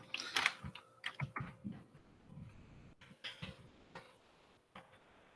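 Faint, close clicks of fingers typing on a computer keyboard, coming in short irregular bursts of taps separated by brief pauses in a quiet room.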